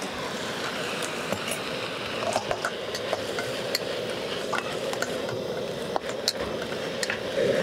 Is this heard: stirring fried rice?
yes